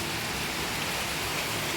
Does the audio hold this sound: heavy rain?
yes